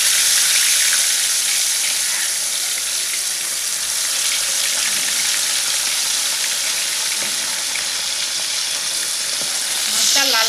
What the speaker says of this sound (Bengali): এবার আমি মাছটা ভাজতে দিয়ে দেবো। এবার দিয়ে দিচ্ছি মাছ ভাজতে।